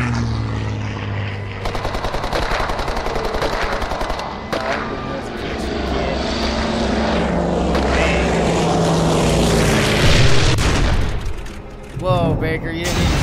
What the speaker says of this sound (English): Baker, you didn't need to shoot a freaking plane out of the sky.